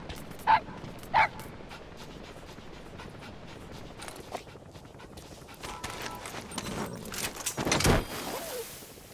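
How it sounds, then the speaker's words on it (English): A wild dog pup in a video game gives two sharp yips close by, followed by softer whimpering and rustling game noise that builds toward the end, with faint talk in the background. "That wild dog pup. He's a tough little guy."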